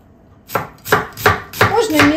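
A knife chopping an onion on a board, five firm cuts in a fairly even rhythm, close and crisp with no talk.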